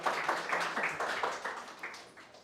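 Students in a classroom clap in a brief round, a run of quick bright bursts that starts fairly loud and thins out over about two seconds.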